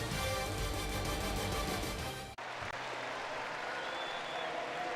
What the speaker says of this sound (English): The crowd applauding in the background.